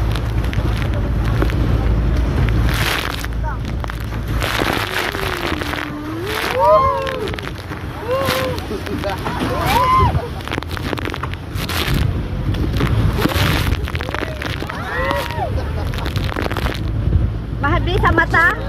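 A boat pounds through strong ocean waves while island hopping off Boracay, with heavy wind buffeting, sloshing water and excited voices shouting and talking throughout.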